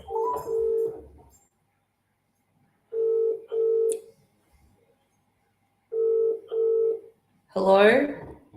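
Touch-tone telephone dialing at home: short pairs of electronic keypad beeps come in three separate bursts with silent gaps between them, followed by a voice close to the phone.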